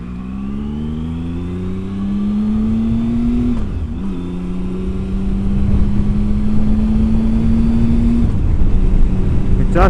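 A Triumph Sprint ST1050 motorcycle's triple-cylinder engine drones loudly and close, its exhaust note rising as it revs, dipping briefly twice during gear changes, then climbing again under wind rush.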